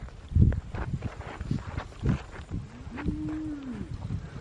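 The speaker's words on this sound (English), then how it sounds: "These are my favorite cows." Cattle along the Florida Trail give a long, clear low moo close by, with shuffling hooves and footsteps around it.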